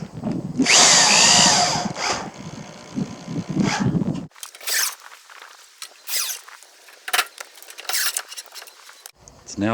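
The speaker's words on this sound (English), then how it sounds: "Here are the other 2 sheets, and they have been pre-drilled." A power drill drives screws through pre-drilled roofing sheets into a recycled lumber pump house, with a loud sustained whir at first and then shorter bursts, and someone talks in between.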